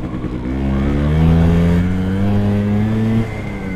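A Vespa scooter engine (PX or Sprint) revs hard during an attempt to ride on the rear wheel, its droning pitch climbing and holding loud and close before cutting off abruptly near the end.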